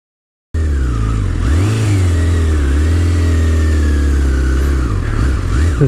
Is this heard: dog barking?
no